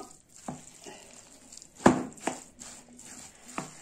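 Cabbage stuffing stirred in a sizzling pan, with soft scraping strokes and sharper spoon knocks over a quiet frying hiss, and no voice.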